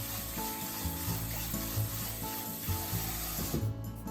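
Rice being rinsed in water and stirred gently by hand makes a soft, close, continuous swishing and rubbing sound, with no speech.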